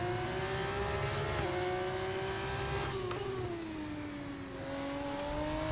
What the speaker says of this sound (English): We go up into second gear.